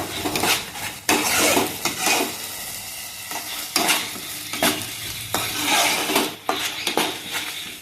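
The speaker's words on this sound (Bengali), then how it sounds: "দিয়ে এটাকেও একটু ভাজা ভাজা করে নেবো" Fish chaap masala is stirred and fried in a pan, with repeated scraping strokes of a utensil against the metal over a steady sizzle, close and fairly loud, with no voices.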